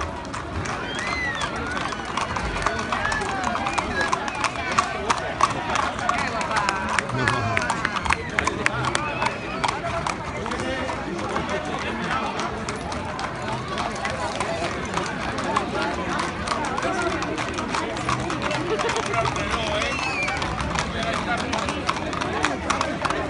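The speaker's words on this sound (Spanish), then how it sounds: "Aguanta el caballo, que se te va el caballo." Horse hooves clip-clopping at a spring fair in Ampuero, a busy, steady patter under constant crowd babble and shouted voices, with scattered clapping in the background.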